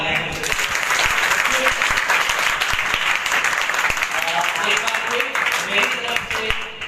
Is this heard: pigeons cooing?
no